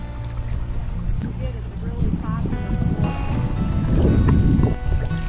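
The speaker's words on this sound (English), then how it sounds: "You got a small set of rapids coming up." River rapids on the murky Thornapple River in Michigan rush and churn around a kayak, a broad, steady wash of water that grows louder and closer over the seconds, with paddle splashes and wind buffeting the microphone.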